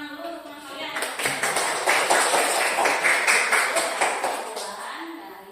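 A classroom of students applauds a classmate, dense clapping that swells in after a quiet second and then holds steady and fairly close before tapering off.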